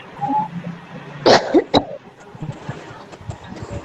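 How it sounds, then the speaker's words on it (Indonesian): A single short cough cuts through faint background noise and low murmuring, followed by a brief throaty sound. "Batuk."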